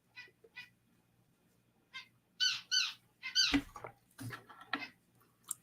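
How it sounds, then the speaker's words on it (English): Small birds give short, bright chirps in scattered bursts over a quiet background, some close and fairly loud, others fainter. "I love the sound of these little birds."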